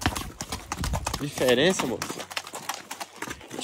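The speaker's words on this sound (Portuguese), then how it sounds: "É, andar a cavalo assim?" Horse hooves clip-clop at a steady walking rhythm during a group horseback ride, mostly under loud, overlapping talk and exclamations from riders nearby.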